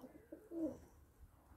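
Pigeons in a loft in Elbląg give a short, soft cooing call, a single low murmur near the middle of the moment, faint against a quiet background.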